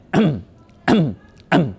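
Three short throat clearings, evenly spaced and close to the microphone, with quiet pauses between them.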